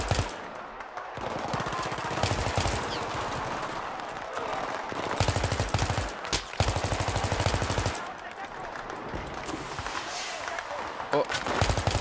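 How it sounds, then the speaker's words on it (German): Bursts of automatic gunfire from the Battlefield 3 campaign rattle in long rapid volleys, loud and close, broken by brief pauses, with a voice talking over parts of the shooting. "Ich sehe nur die Schüsse und schieße einfach in die Richtung."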